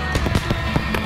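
Fireworks explode in a rapid volley of sharp, loud cracks and bangs close by, with several bursts packed into about a second and no voices.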